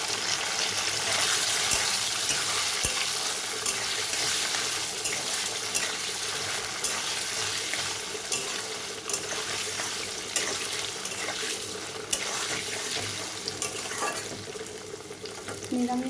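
Paneer fries with bay leaf, whole garam masala and ginger in fat in a pan, producing a steady close sizzle with scattered small clicks and spatters.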